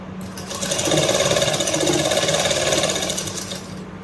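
A sewing machine running a fast, steady whir of stitches while sewing a loose basting seam on a kurta, loud and close, rising at the start and slowing down at the end.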